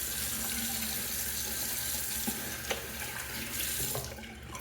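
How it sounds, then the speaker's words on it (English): Tap water runs steadily into a bathroom sink to rinse a shaving razor, a continuous hissing flow with small clinks and splashes throughout. "All right, let's do a quick little rinse."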